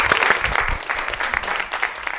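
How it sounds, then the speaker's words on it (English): Audience applauding a woman panel guest at a podcast culture panel during a literature festival: dense steady clapping for about two seconds, ending abruptly. "Give a round of applause for her."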